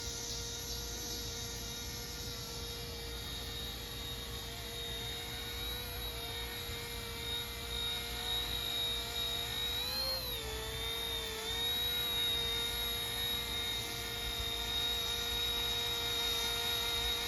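A small RC Bell 206 model helicopter hovers nearby with a steady high-pitched motor whine and rotor buzz, pitch wavering briefly partway through.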